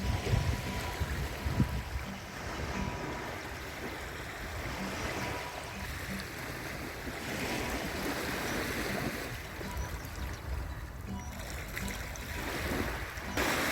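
Sea waves washing onto a sandy beach where a snail crawls, a steady broad wash of surf with wind buffeting the microphone, continuous and moderately soft with no voices.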